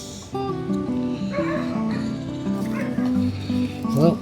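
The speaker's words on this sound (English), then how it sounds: "I really wish them guys wouldn't bark so much all the time." Dogs near a garden with squash plants bark, yip and whimper in quick overlapping bursts, close and fairly loud, the whines rising in pitch toward the end.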